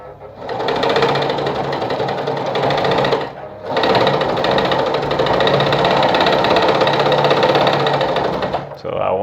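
A Sartina E-100 sewing machine runs stitches in a loud, continuous mechanical whir close by, pausing briefly once before restarting and then stopping near the end.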